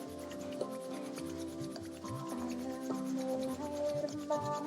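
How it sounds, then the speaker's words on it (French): Palms are rubbed briskly together during a Kundalini yoga session, making a soft, repeated friction sound over calm melodic background music. "Frottez jusqu'à ce que vos mains deviennent chaudes, presque brûlantes."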